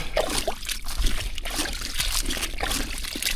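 About five inches of water sloshes and trickles inside a non-waterproof bikepacking bag, a close, steady churning and splashing that carries on throughout.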